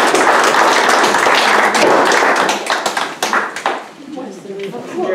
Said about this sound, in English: I would like to give them a hand of applause.